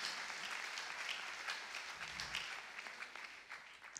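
A church congregation applauds the Lord together, a sustained wash of many hands clapping at a distance that swells and slowly fades over several seconds.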